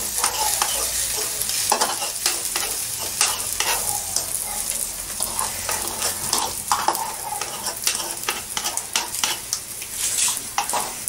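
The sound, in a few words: mixing sizzling food in a pan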